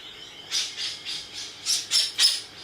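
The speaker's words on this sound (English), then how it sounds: "Oh, there go all the birds." Several birds squawk in quick repeated calls, around eight harsh bursts over a couple of seconds, moderately near and loud against a quiet background; no one speaks.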